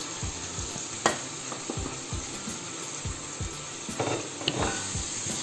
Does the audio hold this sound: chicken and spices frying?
yes